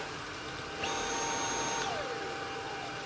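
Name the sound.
old Dyson V8 cordless vacuum cleaner running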